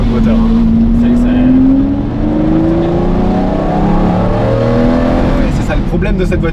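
A Lamborghini Murciélago LP-580 V12 with a manual gearbox pulls hard, its engine tone climbing steadily and then easing off, loud and close from inside the car while people talk.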